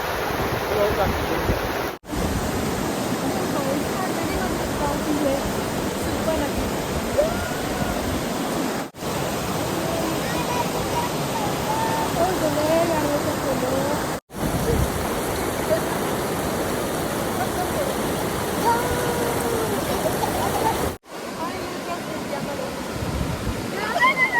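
A small waterfall drops from a modest height, making a steady, full rush of splashing water close by, broken by a few brief cuts.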